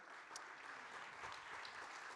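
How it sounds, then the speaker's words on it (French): Audience applause at an awards ceremony, a steady wash of many hands clapping for a prize winner, fairly faint and continuous throughout. "il va nous rejoindre sous vos applaudissements"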